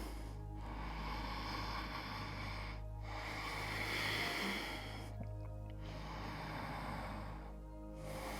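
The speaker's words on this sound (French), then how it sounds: "On calme la respiration." Calm, slow breathing during a morning yoga routine: two long, audible breath cycles with airy inhales and exhales separated by short pauses, close and fairly clear, without speech.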